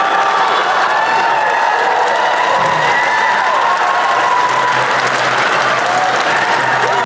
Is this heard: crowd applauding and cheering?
yes